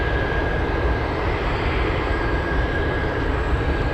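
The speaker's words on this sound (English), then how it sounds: "We have the Cathay Pacific taxiing to the runway." A Cathay Pacific airliner taxis toward the runway at Anchorage airport, its jet engines producing a continuous loud roar with a thin steady whine riding on top, unbroken for the whole stretch.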